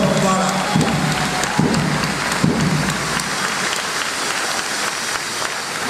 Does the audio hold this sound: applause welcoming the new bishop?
yes